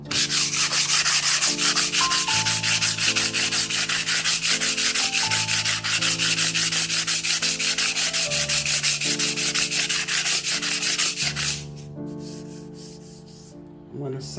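Steady abrasive rubbing of sanding on a drywall patch during a bathroom remodel, loud and continuous for about eleven seconds before it fades out, with faint background music.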